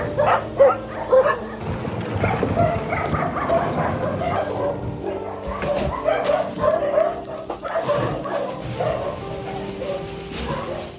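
Dozens of rescued dogs at a large shelter bark, yip and whimper excitedly before feeding, a loud overlapping chorus of many dogs close by that continues throughout.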